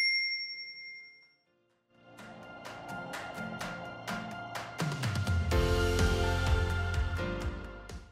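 A soft notification bell chimes once at the start and rings out as it fades, then light rhythmic music with bright plucked notes takes over.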